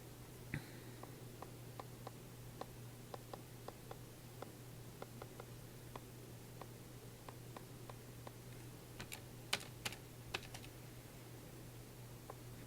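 Plastic keys of a handheld calculator click in a quiet room, a steady run of soft, close taps at irregular intervals with a brief quicker burst near the end.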